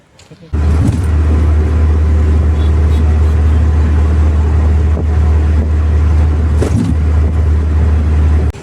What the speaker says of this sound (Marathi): आता रिक्षा आली आहे, रिक्षाकडे चाललो आहे